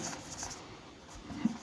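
Chalk or a marker scratches on a board during a maths lecture on converting a matrix to normal form, quiet and close, with soft strokes and a brief tap near the end.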